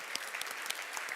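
Applause from a seated audience in a conference hall during a talk on truffles, a steady patter of many hands clapping throughout the short stretch with no voices over it.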